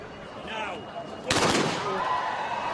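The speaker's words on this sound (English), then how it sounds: "Christina Horogu firing." A starting gun fires at the start of a 2018 half-marathon, one sharp crack cutting through a commentator's voice and followed by crowd noise and continued commentary.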